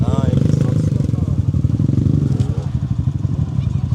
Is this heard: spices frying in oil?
no